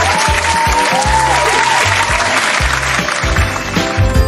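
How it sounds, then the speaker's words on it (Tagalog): Loud, steady applause from a crowd fills the whole stretch without pause, with faint tonal sounds mixed underneath, as an audience answers a host on a school radio program. "ibigay nga ninyo ang inyong pinakamalakas na palakpak"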